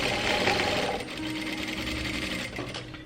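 A sewing machine runs steadily, stitching a narrow handkerchief hem around the folded edge of a long godet bustier dress, with a continuous close motor whir and no talking.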